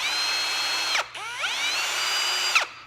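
A cordless power drill spinning its chuck in reverse and then forward to open and close it quickly; two close, loud whirring bursts with rising and falling pitch, separated by a short pause, no talk.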